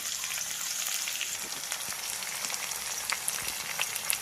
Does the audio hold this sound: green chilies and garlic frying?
yes